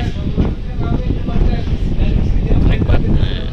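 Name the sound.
strong wind on launch deck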